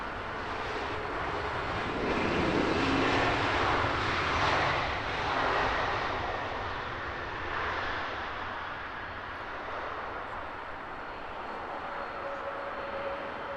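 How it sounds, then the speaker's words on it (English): An Austrian Airlines jet arriving from Vienna touches down at Heathrow with a broad, moderately distant engine roar that swells and fades in a couple of surges before settling into a steady rush. "Austrian Airlines Flight 331, touching down from Vienna."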